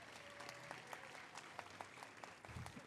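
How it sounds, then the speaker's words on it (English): A crowd at an outdoor square dedication press briefing applauds, steady moderately distant clapping from many hands throughout, with a low thump near the end and no speech. "let's give them a huge round of applause"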